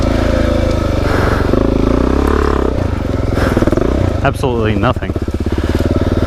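A DRZ dirt bike engine drones loud and close on a trail ride, its throttle rising and falling with brief revving, and a rider speaks a few words over the engine.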